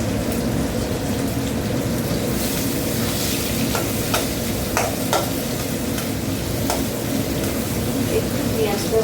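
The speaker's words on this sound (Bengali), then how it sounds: "একটু পেঁয়াজটা ভাজা ভাজা হলে তারপরে আলুটা দেবো।" Onions fry in a pan of oil that has already fried fish and black cumin, with a constant loud sizzle broken by scattered clinks of stirring, and someone talks over it.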